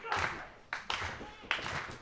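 Wrestling crowd clapping in a bursting pattern, three swells of applause that rise sharply and fade, fairly close and filling the room, at a Michael Elgin match.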